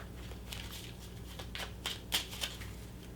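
A deck of tarot and oracle cards is shuffled close up, a series of soft riffling flicks and light taps with a few sharper snaps, quiet and alone over faint room hum.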